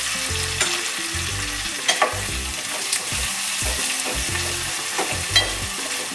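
Chopped onion fries with turmeric in a pan, a loud close sizzle with occasional stirring knocks and scrapes, tonal hum underneath and no voices.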